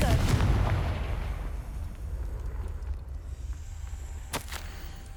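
A Confringo fire spell goes off in Hogwarts Legacy, a loud burst up front that rolls into a sustained low rumble and fades, with a sharp crackling snap near the end.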